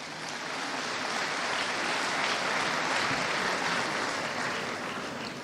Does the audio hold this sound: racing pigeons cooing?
no